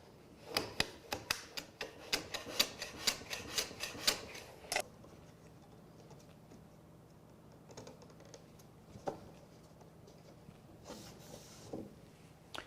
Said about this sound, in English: use my low angle jack plane to shoot them to the right size